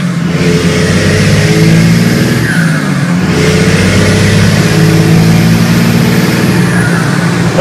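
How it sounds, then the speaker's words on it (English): A heavy Cummins diesel engine in a truck with huge tires and a six-speed transmission revs loudly and steadily, a deep throaty rumble that rises and falls slightly, close up with no talking. "I'm having a good time driving this truck."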